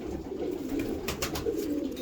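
Pigeons coo softly at close range, a low murmuring burble running through the short stretch, with a few brief rustles or flaps partway through and no speech.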